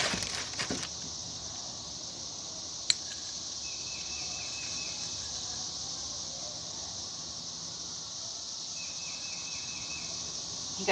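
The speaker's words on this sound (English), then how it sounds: "You guys hear the cicadas?" Cicadas drone as a steady, continuous high buzz throughout, fairly loud and unbroken, with a brief sharp click near the start and no talking.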